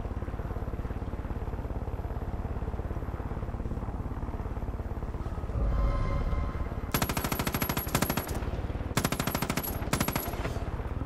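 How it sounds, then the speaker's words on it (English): Gunfire in the shooter Far Cry 5 starts after a low engine-like rumble, coming as rapid automatic bursts, loud and close, with a short pause between two volleys. "I was just shooting, killing."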